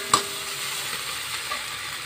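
Spice paste for sardine sambal fries in a pan over lowered heat, giving a steady broad sizzle and hiss with a brief clatter of stirring near the start.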